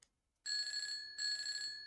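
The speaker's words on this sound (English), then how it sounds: "the phone began to ring." A telephone rings in two bright, shrill electronic bursts, each under a second with a brief gap between, close and clear with no voices.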